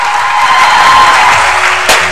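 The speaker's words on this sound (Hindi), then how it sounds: "बहुत ही तालियां" A TV studio audience at a Ramadan game show applauds loudly and steadily from start to finish, a dense close wash of clapping with a brief sharper burst near the end.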